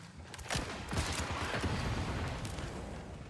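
Dense, rapid gunfire fills a Borderlands 4 firefight, a continuous crackling fusillade of overlapping shots with a few stronger bursts, fairly quiet overall.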